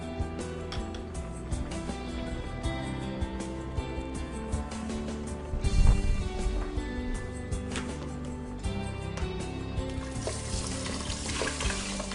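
Water runs from a kitchen tap into rice for a steamer, a steady trickling flow close to the microphone with a brief louder splash midway and a hissier surge near the end.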